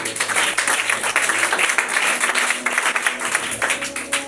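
An audience applauding at a religious gathering, dense sustained clapping throughout, fairly loud and close, no speech over it.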